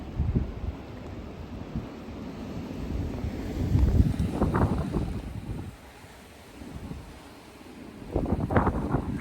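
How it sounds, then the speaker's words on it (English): Strong surface wind gusts from a blizzard in Lincoln, Nebraska, with gusts up to 74 mph, roar in broad rushing swells over a steady background wind rumble, with two clear surges about four seconds apart. "you're also now hearing these surface gusts, which are just audible"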